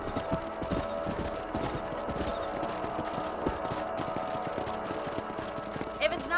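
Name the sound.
horse galloping, from video game Red Dead Redemption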